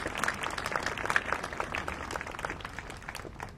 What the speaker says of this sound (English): So Sam, here's a round of applause for you.